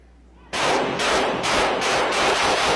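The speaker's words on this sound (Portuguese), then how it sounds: "estão dando um monte de tiro em mim" Gunfire from a video played aloud in a legislative plenary chamber: a burst of loud, rapid shots starting abruptly after a quiet moment, continuing in repeated pulses close and dominant throughout.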